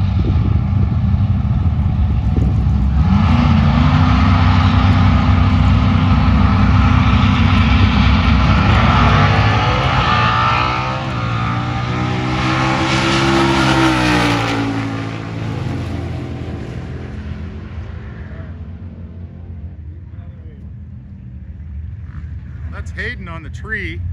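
A 1998 Yamaha RT100 motorcycle races at Woodburn Dragstrip with a loud, sustained engine drone that rises and falls in pitch, fading gradually as the bike pulls away. An announcer talks over it.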